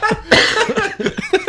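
A person coughs hard several times in quick succession at a brewers' tasting session, loud and close, with harsh bursts followed by shorter hacking coughs and breaths.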